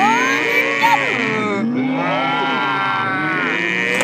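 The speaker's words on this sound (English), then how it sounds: "Number two animal is the cow." A cow mooing from an animal toy game, a loud electronic moo with bending tones that carries steadily through the whole stretch over a busy, music-like background.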